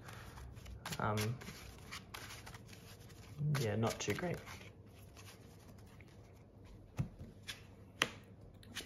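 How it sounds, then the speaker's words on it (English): A deck of Yu-Gi-Oh trading cards being shuffled by hand, two short bursts of riffling patter close up, with someone talking briefly between them and soft clicks afterward. "Golly gosh, didn't shuffle that very well."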